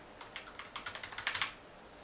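Rapid typing on a quiet-key computer keyboard in a new Ryzen 5 PC setup, a close burst of about a dozen soft, even clicks that quicken and grow slightly louder, then stop.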